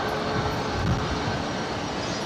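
A Qantas Boeing 737-800 jet departs Brisbane Airport for Sydney, its engines a steady broadband roar at moderate distance with no talk.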